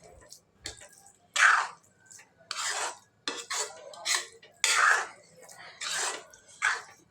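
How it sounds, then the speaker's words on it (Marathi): A spoon stirs wheat kheer with jaggery, grated coconut and poppy seeds in a pot, several separate scraping, clinking strokes against the metal with short pauses between them, close and fairly loud. "गुळात खोबरं घातलेले आहे तसंच खसखससुद्धा घातलेले आहे व्यवस्थित मिक्स करून शिजवायचा"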